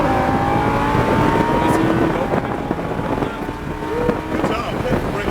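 A Lamborghini Huracan accelerates on a racetrack, its engine note climbing steadily and close, mixed with wind rush and the hum of the car at speed.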